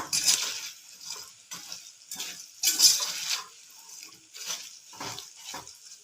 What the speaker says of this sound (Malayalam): നന്നായി വീണ്ടും ഒന്ന് ഇളക്കുക.